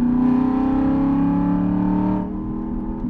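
Car engine revving up as gas is added while shifting, a steady, loud harmonic drone that holds, then drops slightly in pitch and level near the end.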